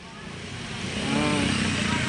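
A motorcycle passes by outside a motorcycle repair shop where bikes are lined up, its engine drone swelling steadily louder as it draws near, with someone talking over the sound.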